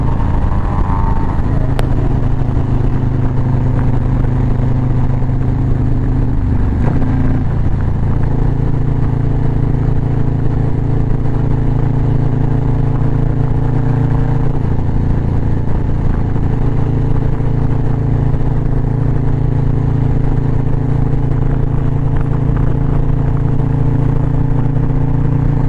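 A motorcycle engine runs loud and close for the whole stretch, with a steady rumbling drone and a brief rise and clatter of revving near the start before settling into a constant, even roar.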